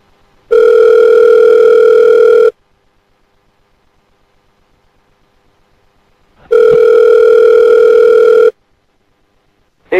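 Telephone ringback while calling Chris, two long steady electronic tones about two seconds each, separated by silence, loud and clear with no voices.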